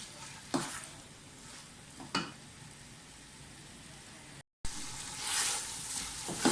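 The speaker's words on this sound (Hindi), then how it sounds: "तो पहले इसकी भुनाई कर लें।" Mongray radish pods and potatoes frying in a pan, a steady soft sizzle with a few sharp stirring scrapes, briefly cut to silence, then louder sizzling resumes.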